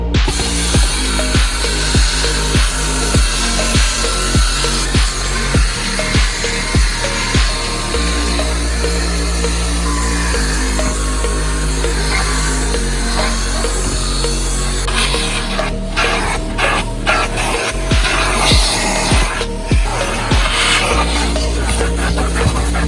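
A cordless screwdriver fitted with a scrubbing brush works a car's carpet, giving a loud, busy ratcheting whir with rapid clicking pulses that change pitch as the motor speeds up and slows, running on without pause.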